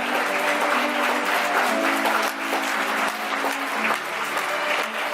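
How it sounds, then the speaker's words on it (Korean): Wedding guests applaud warmly as the bride enters the hall, sustained even clapping over soft background music. "내빈 여러분 신부님을 따뜻한 박수로 맞이해 주시기 바랍니다."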